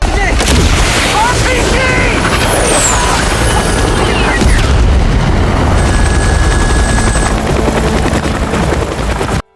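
Heavy, continuous roar of Black Hawk helicopter rotors and engine with rapid gunfire and booming blasts mixed in during a jungle battle, loud and dense throughout.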